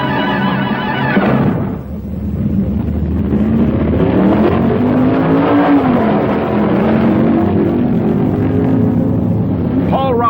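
Plymouth stock cars run in the first round of Top Stock Eliminator drag racing at the 1965 Winternationals, engines roaring and revving loudly beneath continuous announcer commentary.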